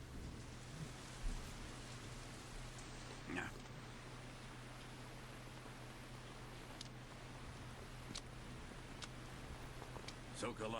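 Steady rain falls continuously in the video game Metal Gear Solid 3 with a dense hiss, a few sharper drops or splashes standing out, while a low hum runs underneath.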